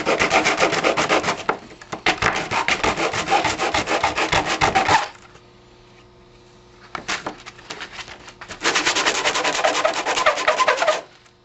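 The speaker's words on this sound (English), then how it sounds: "I'm using 100 grit sandpaper." A wooden HO scale model railroad building panel is sanded with 100 grit sandpaper in long, loud, close rasping strokes, two extended bursts separated by a quieter pause with a couple of brief scrapes, and no speech.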